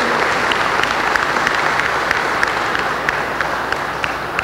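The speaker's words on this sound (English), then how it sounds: "Can you give them all a hearty round of applause?" An audience at a formal programme launch gives a sustained, hearty round of applause, dense many-handed clapping with a few sharper individual claps standing out, steady and loud with no talking over it.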